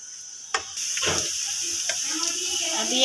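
Onions browning in a pan for a dhaba-style anda ghotala, a steady sizzling hiss with a few stirring scrapes and clinks of a spoon against the pan, close and continuous.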